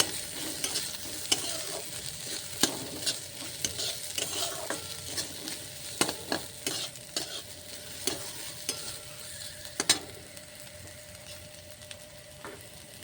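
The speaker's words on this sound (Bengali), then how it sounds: "এরপর আমি দেব 1 চামচ আদা গ্রেট করা, একটু নাড়িয়ে নিই।" A spoon stirring grated ginger into boiled mung dal in a pot: soft wet stirring with irregular light clicks and scrapes of the spoon against the pot, close and fairly quiet, no voices.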